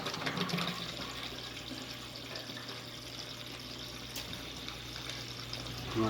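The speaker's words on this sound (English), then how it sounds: "you'll want to let the water run." Water runs steadily from a drinking fountain and bottle filling station after its filter has been replaced, a constant hissing, splashing flow at moderate level with no voices.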